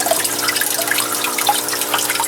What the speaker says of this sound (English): initially I was getting a bubbling effect coming up, and I'm sure that's adding even more oxygen to the tank